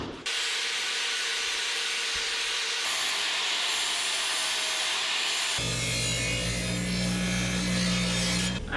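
Flap disc grinding and shaping a metal panel on a 1967 Toyota pickup, a loud continuous abrasive whir that shifts pitch and load in several distinct passes, close and without talk.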